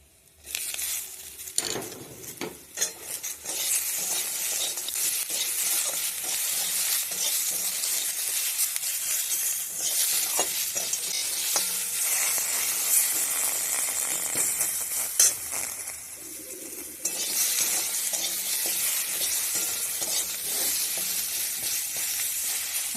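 Bori lentil dumplings fry with chopped tomato in a pan, giving a steady close hiss and sizzle with scattered crackles and a few clinks of the utensil.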